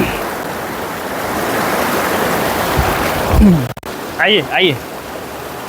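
Fast river water rushes around rocks in a steady broad roar, loud and close, while a person speaks briefly over it near the end.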